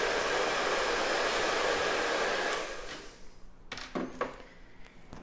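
A salon hair dryer blows steadily and loudly on a client's hair, then switches off, leaving faint clicks and handling noises.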